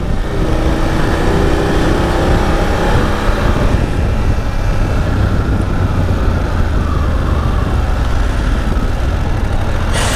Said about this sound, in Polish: Fajnie jak schodzi z obrotów, to jeszcze ta pucha trochę tak pufa, pu, pu, pu, pu.